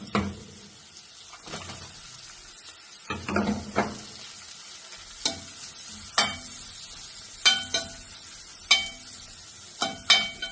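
Onions frying in melted butter in a pan for a cauliflower, carrot and potato gravy, with a steady sizzle broken by repeated sharp scraping strokes of stirring, close and fairly loud, no talking.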